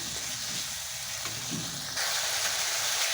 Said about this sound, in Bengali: এবার দিয়ে দেবো গুঁড়ো মশলা। আবারও নেড়ে